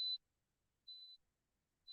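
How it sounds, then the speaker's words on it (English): A home dishwasher signals the end of its cycle with three short, high electronic beeps spaced evenly about a second apart. They are faint and thin, with near silence between them. "Does beep a lot when it's finished."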